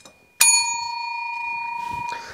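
A single bright bell ding rings out clearly and sustains with a shimmering decay, followed by faint rustling.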